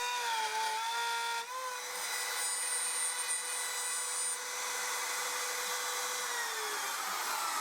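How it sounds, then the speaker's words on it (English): A router fitted with a 12mm template bit cuts salvaged oak, giving a steady high-pitched whine with a continuous rough cutting hiss that stays loud and close throughout. "I used a 12mm template bit in the router with the bearing running around the template to guide the cut."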